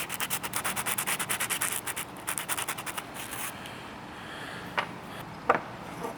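Knife handle parts are roughed up by sanding, with quick rhythmic rubbing strokes at first, then slower scratchy passes and a couple of knocks, close and moderately loud.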